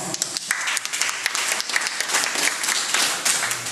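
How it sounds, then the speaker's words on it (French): A crowd bursts into dense, sustained applause, many hands clapping at once in a loud, continuous wash of sound with no voices standing out. "Ces gens-là méritent des applaudissements."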